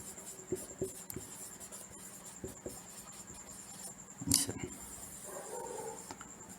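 Chalk or a marker scratches on a board during a chemistry lesson, giving faint scattered strokes and taps over steady background hiss, with a brief louder knock near the middle.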